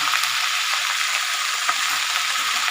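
Ginger and cumin powder sizzling in a frying pan as they are turned over, a loud, even hiss with faint occasional scrapes, close by and without talk.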